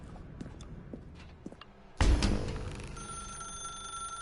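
An old-style telephone bell in The Stanley Parable starts ringing sharply and close halfway through, loud and continuing to the end after a quieter stretch of faint footsteps.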